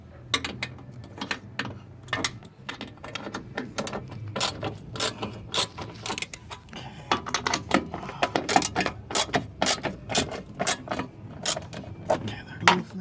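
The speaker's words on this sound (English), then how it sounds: "gotta do is just take them out with your socket wrench" A socket wrench ratchets while loosening bolts on a Toyota Tacoma, producing sharp, close clicking in irregular bursts, with some quieter background sound between them.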